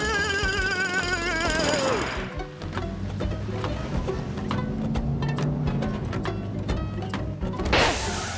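A harsh rattling drill in an animated cartoon hammers away in rapid bursts, preceded by a whining mechanical tone that fades out before the pounding starts.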